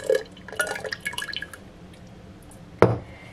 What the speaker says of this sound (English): there's just a little bit of syrup left over, so I'm going to put it in this old honey jar that I've washed out